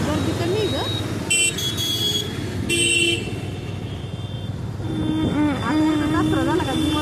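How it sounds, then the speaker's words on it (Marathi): Busy road traffic with car horns tooting in short bursts and a sustained wavering honk, engines rumbling throughout, and a person talking underneath. "आता पुढं खूप ट्रॅफिक असतं"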